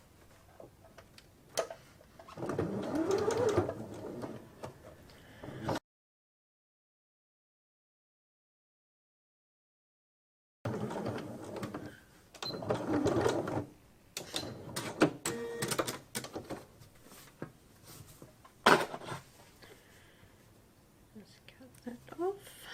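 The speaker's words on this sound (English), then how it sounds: "So with this time now I stitch down the side seam, and that will encase the elastic." A sewing machine stitches the side seam of a fabric face mask, enclosing the elastic, in short bursts of quick rattling stitches separated by pauses and a stretch of silence, with soft speech in between.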